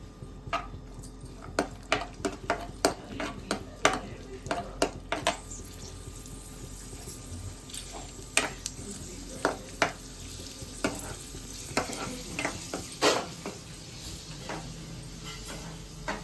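Cashews and raisins fry in ghee for sweet pongal, with small sizzles and irregular clicks and taps of a spoon stirring in the pan, close and fairly quiet, with no voices.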